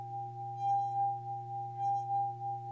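A drinking glass sings as its rim is rubbed during a classroom science demonstration, giving a steady, sustained ringing tone with a few faint higher shimmers swelling in and out.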